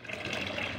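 Water spilling over the rim of a full washing basin (batya) during hand laundry, a steady close splashing trickle that runs the whole moment without pause.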